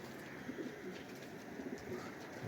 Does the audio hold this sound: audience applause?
no